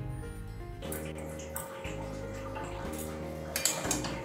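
A lid settles onto a cooking pot of moong dal and bottle gourd with a short clink and light metallic rattle, then soft bubbling and faint kitchen clatter continue over a steady stove hum.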